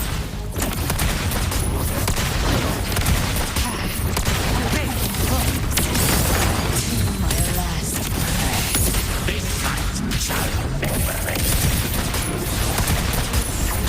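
Sustained rapid gunfire from Wuthering Waves combat, a dense unbroken barrage of shots with crashing impacts for the whole stretch, fairly loud throughout.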